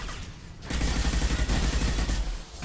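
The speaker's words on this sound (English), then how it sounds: "The Inferno grenade going." A grenade detonates into a sustained, roaring burst of fire and crackling impacts during Mass Effect 2 combat, loud and dense for about two seconds after a quieter lead-in.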